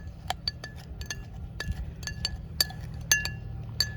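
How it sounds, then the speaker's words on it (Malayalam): A spoon crushes mojito ingredients in a glass, giving a series of sharp, quiet clinks at an irregular rhythm against a soft background hum, with no talking. "ഈ ഇൻഗ്രീഡിയൻസ് ഒക്കെ നന്നായിട്ടൊന്ന് സ്പൂണായിട്ട് തന്നെ നന്നായിട്ടൊന്ന് ചതച്ചു കൊടുക്കുക."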